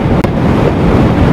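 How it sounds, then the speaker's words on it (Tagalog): Loud, buffeting wind roars continuously across the microphone in a short burst, with a brief dip partway through. "Lakas ng hangin."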